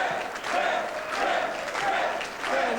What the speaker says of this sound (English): Thank you for such an enthusiastic crowd